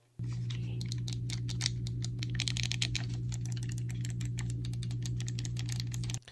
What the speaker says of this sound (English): Comparing these two controllers, the buttons don't feel too different.